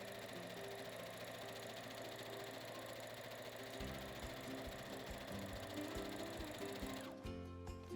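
A sewing machine stitches a seam in a fast, continuous mechanical chatter, close and steady, with the stitching rhythm shifting partway through and the motor easing off near the end.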